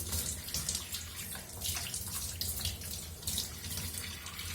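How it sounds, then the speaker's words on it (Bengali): Tap water runs steadily into a kitchen sink as something is rinsed under it, a close, continuous splashing rush with no voices. "এই যে ধুয়ে নিই।"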